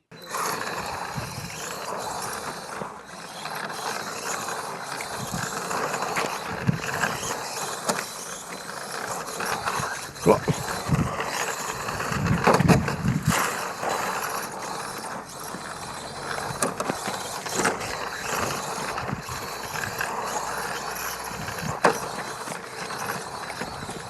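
A Tamiya XV-01 RC car drives steadily, its electric motor whining and tires hissing in a continuous, fairly loud rush, with a few sharper bumps and scrapes along the way.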